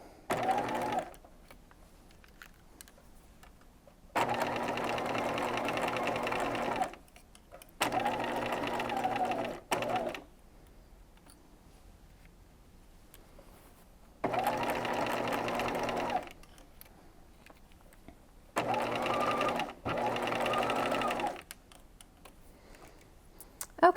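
A sewing machine stitches around the underarm of a peignoir in four separate runs of about two to three seconds each, with quiet pauses between them, fairly soft and close.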